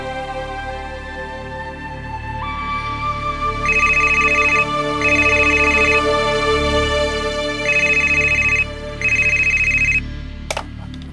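A home telephone rings in a drama scene: a single electronic ring tone repeats in four evenly spaced bursts, loud and close, over soft background music, with no talk.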